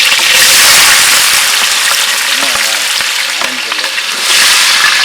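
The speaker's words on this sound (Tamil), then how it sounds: "வெங்காயம் வந்து ஓரளவுக்கு வதங்கிடுச்சு." Onions frying in a pan for egg masala curry, giving a loud, steady sizzle close up. Occasional scraping and stirring knocks break through, and the hiss swells again near the end.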